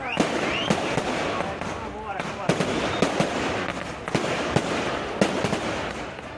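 Firecrackers burst in India after a Pakistan cricket victory, sharp irregular cracks and pops repeating over dense crackling noise and crowd din, loud and continuous.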